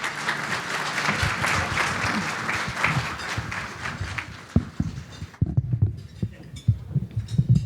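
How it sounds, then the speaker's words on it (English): Banquet audience at an engineers' week awards dinner claps loudly and continuously, the dense applause thinning into scattered individual claps and faint murmurs toward the end. "Give her a round of applause."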